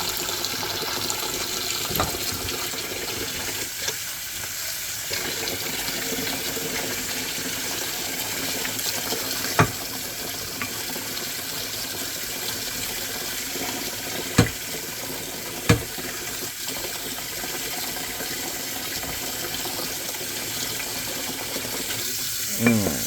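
Water runs steadily in a kitchen sink while dishes are scrubbed with a new Pampered Chef wash pad that has a soft side and a scratchy side, with a few sharp clinks along the way and no talking.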